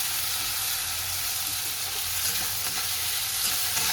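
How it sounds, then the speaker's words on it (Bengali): Onions salted and frying in a pan hiss with a steady, bright sizzle, with faint stirring scrapes underneath and no voices. "পেঁয়াজটা একটু লাল লাল করে ভেজে নিই"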